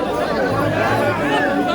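Dense chatter of a large crowd gathered at Guru Ravidas ashram for a spiritual leader's final viewing, many overlapping voices forming a steady, close, continuous murmur.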